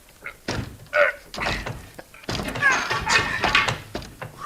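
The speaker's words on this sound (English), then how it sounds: "Try your shoulder on that door, Shaw." Door forced with a shoulder as a 1952 radio drama sound effect: several heavy thunks and thuds in an irregular rhythm, close and fairly loud, with a brief voice between impacts.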